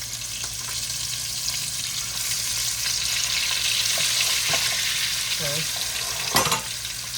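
Frozen swai fillets fry in a hot skillet with a steady, loud sizzle that runs the whole time, with faint utensil knocks and a brief sharper crackle near the end; a voice speaks once, briefly.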